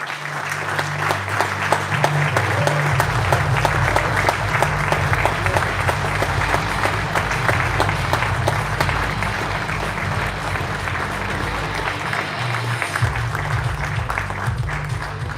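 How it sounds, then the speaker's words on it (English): A crowd gives loud, sustained applause at the unveiling of the 2019 Red Bull KTM MotoGP colours, dense clapping that holds at an even level throughout. "Big applause, everybody."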